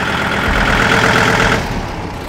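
A tractor engine runs close by with a loud, steady low rumble and mechanical chatter, its level easing off near the end.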